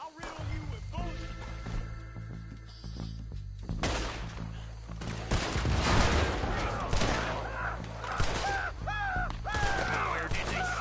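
Gunfire breaks out in the Red Dead Redemption 2 video game, scattered shots and bursts cracking over a low steady rumble, growing denser toward the end with shouting voices mixed in.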